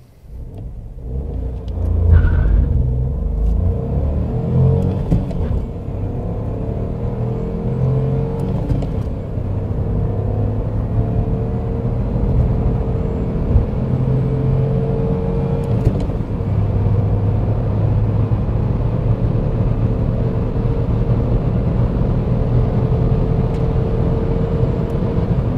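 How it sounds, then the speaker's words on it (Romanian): Dacia Logan 1.0 TCe ECO-G with a six-speed manual accelerating hard from 0 to 100 on petrol, a continuous cabin-heard engine drone and road rumble rising through the gears with no speech. "0-100 pe benzină."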